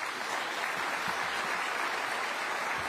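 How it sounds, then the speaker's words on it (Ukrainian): Steady, dense applause from a summit audience at the United24 first-anniversary event, even and sustained throughout with no talk on top. "Оплески."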